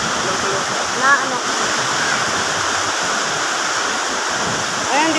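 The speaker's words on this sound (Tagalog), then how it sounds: "Ang lakas ng ulan." Heavy rain pours steadily as a dense, continuous broadband hiss filling the whole clip, with people talking briefly over it.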